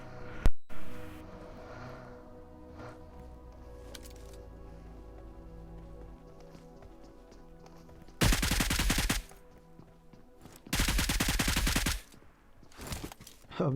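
Gunfire in the PUBG battle royale game during a squad match, with two loud bursts of rapid automatic fire separated by quieter ambient game sound and a few faint distant shots.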